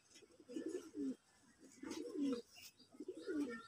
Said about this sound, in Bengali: চলুন, আমার দুইটাই বাচ্চা কবুতর দেখাই।